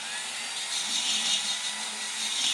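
A power drill spins a cylinder hone at slow RPM inside the bore of an engine cylinder during an LT80 top-end rebuild. It makes a steady, close, raspy grinding whir that holds for the whole moment with no pauses.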